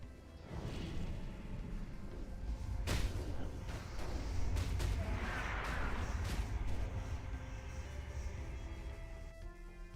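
A blast goes off during a World of Warcraft TBC Classic Tempest Keep raid fight, a sharp crack followed by whooshing spell effects and rumbling game noise, layered busily over several seconds.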